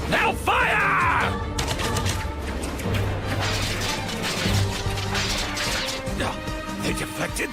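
Anime crossbow squad loosing a volley of bolts, a dense clatter of whooshes, cracks and impacts layered with battle noise and a sustained low rumble throughout.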